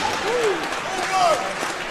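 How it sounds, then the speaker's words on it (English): Applause and cheering from a crowd for two fighters in a UFC cage fill the space, mixed with amplified announcer talk and echoing whistles. "a big round of applause for both of the fighters in this cage"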